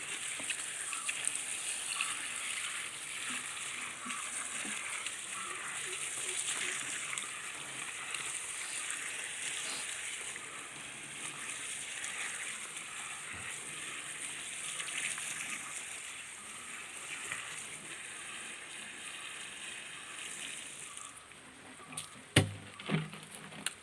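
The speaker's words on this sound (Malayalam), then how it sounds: "ഇനി നമ്മൾ ചെയ്യാൻ പോകുന്നത് ഇതിനകത്ത് വെള്ളം ഒഴിക്കുക എന്നുള്ളതാണ്" Fresh water poured into a bucket of leaves for making liquid fertilizer, a steady splashing, trickling stream close by that runs continuously, followed by a few sharp knocks and clatters at the end.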